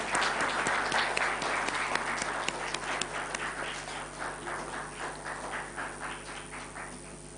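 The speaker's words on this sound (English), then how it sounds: "A round of applause, please." Sustained applause from a large conference audience at a summit, loud at first and gradually thinning into a rhythmic patter of fewer hands as it fades.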